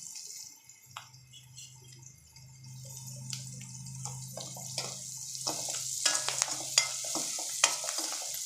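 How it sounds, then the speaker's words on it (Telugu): Curry leaves dropped into hot oil in a frying pan for a ridge gourd and soya chunk curry, crackling in quiet scattered pops that build into sharper, closer sizzling bursts over a faint low hum. "ఇందులోనే ఇప్పుడు కరివేపాకు కూడా వేసేసుకోవాలి."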